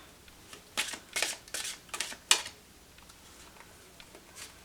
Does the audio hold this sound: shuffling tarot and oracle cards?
yes